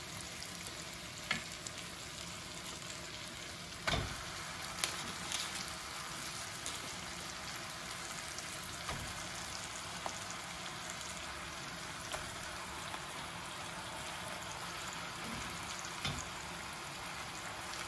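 Beef sizzles in a pot at the start of a slow-cooked beef dish: a dense, steady hiss with occasional sharp pops and crackles, close and even throughout, with no talking.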